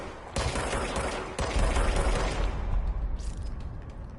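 Video game gunfire is aimed at the player: loud, dense bursts of rapid shots with sharp onsets, easing into a quieter rumbling tail with faint clatter at the end.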